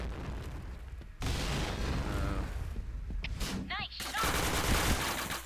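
Rapid gunfire bursts from a Point Blank online shooter match ring out close and loud, dense volleys with a brief gap partway through, then renewed firing, with a player's voice faintly underneath.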